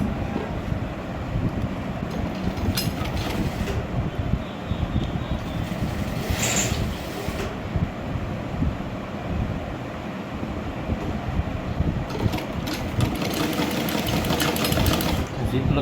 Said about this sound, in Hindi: आप ये इधर रख के सिलाई कर देनी है इसके नीचे नीचे।